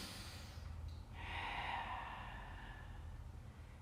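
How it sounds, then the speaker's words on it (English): Deep breathing during a family yoga session, one long slow breath drawn in and let out close and soft against a quiet room hush. "Breathe deeply."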